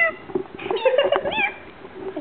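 A person imitates a cat's meow, a short high, wavering vocal mew rising and falling, close and fairly loud, alone without other talk.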